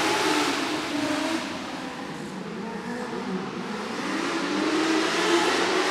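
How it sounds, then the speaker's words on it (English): Modlite race cars pulling away at a race start on a short oval, their engines revving and accelerating together in a steady, loud roar with no speech. "Green flag flies,"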